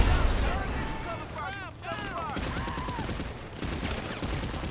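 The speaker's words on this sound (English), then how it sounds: "I'm going to shoot you with this grenade launcher" A grenade launcher firing in GTA V, a dense rattle of gunfire and blasts under a speaking voice, with rapid sharp bursts resuming loudly toward the end.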